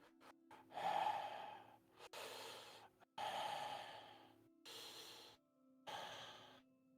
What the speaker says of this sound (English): all you hear is just nothing except suddenly some heavy breathing